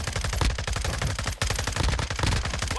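Rapid automatic gunfire from Warzone 2.0 comes as loud, close bursts of rattling shots that are nearly continuous, broken by one brief pause midway.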